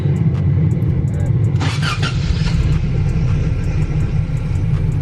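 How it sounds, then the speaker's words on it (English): First-generation Toyota 4Runner engine running steadily at idle, a loud continuous low rumble throughout with a brief brighter burst of noise partway through. "Should be able to start the car up and see if it works."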